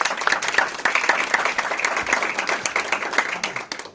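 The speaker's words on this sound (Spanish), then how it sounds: "Un aplauso por ellos." A lecture audience at a free talk hosted by Grupo Libélula applauds steadily, with dense, close clapping that holds evenly throughout, no voices.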